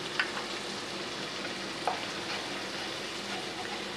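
Pabda fish curry with green chili paste sizzles gently in a pan over a low flame as it is stirred, with a soft, constant frying hiss and two light spatula taps against the pan.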